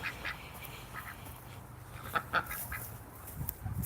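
Ducks quack inside a duck house, a few scattered, fairly faint calls over a low, steady background hum, with two slightly louder quacks near the middle.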